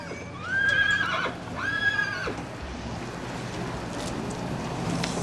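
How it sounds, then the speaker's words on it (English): A horse gives two loud, close whinnies in quick succession, then quiet outdoor ambience with faint wind. "Here, let me take your horse."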